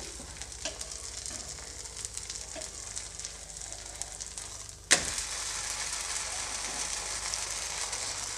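Rice dosa sizzling on a hot pan, a steady crackling fry that jumps louder and brighter midway, as if just flipped, then keeps hissing evenly.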